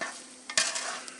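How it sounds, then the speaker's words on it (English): Oven-roasted potatoes tossed in flavored oil on a sheet pan, giving a short soft scraping and tumbling rustle with a brief louder burst midway, close up and without talk. "Toss them up in that flavored oil."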